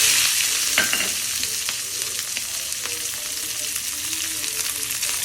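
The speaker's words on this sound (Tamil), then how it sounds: "ஜீரகம் போட்டு இதில் பச்சை மிளகா ஒரு 3, வரமிளகா ஒரு 2." Mustard seeds, cumin, green chillies and dried red chillies crackle and sizzle steadily in hot oil, a continuous bright frying hiss with scattered sharp pops, close and fairly loud, no voices.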